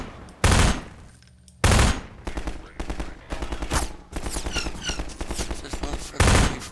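Gunfire in the video game MINERVA: Metastasis comes as loud, close bursts of heavy shots with rapid rattling volleys between them, and a voice is heard briefly.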